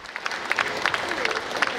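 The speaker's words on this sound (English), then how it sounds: "A big round of applause" Crowd at Sir John Guy Stadium applauding at a schools' academic year launch, a short steady wash of clapping, moderately loud and continuous.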